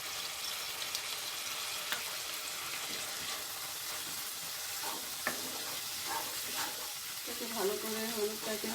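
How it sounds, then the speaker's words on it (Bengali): Spoon stirring ground turmeric through ingredients frying in a pan for rajma shrimp curry, a steady close sizzle with scraping strokes and a few sharper clinks near the end. "ভালো করে হলুদটাকে ভালো করে মিক্স করে নিতে হবে।"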